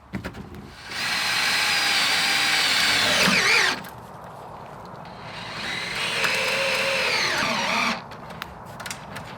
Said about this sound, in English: Now I'm just gonna screw the plywood to the frame.